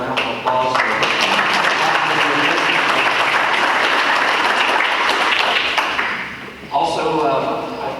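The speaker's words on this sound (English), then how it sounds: "So can we give them a round of applause?" An audience at an agricultural extension workshop applauds the sponsors with a loud, sustained wash of clapping that lasts several seconds and then fades, while a speaker's voice sounds at the start and end.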